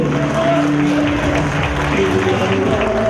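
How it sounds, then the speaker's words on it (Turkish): An audience applauds at a Quran course graduation ceremony, a steady wash of clapping from a crowd heard throughout, with a voice over a speaker system sounding along with it. "Kuvvetli alkışlarınız tüm kızlarımız için."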